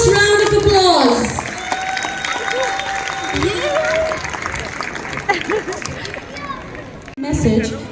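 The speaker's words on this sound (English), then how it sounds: "show them all your love with a thunderous round of applause" Audience applause and cheering for children at a school annual day, a crowd clapping under shouts, whistles and chattering voices, loud at first, then settling into a steady roar before rising again at the end.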